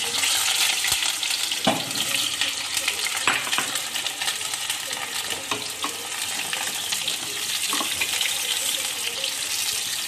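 Raw mango pieces fry in hot oil with panch phoron, giving a loud, dense crackling sizzle close up, with a few sharp knocks of a utensil against the pan.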